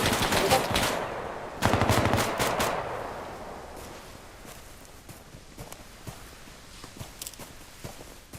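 Bursts of gunfire ring out during outdoor squad tactics training, loud rapid volleys in the first few seconds, then fading into scattered softer shots and footstep-like clatter.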